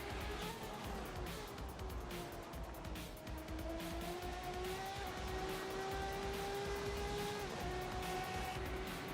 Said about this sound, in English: Sounds like a Porsche.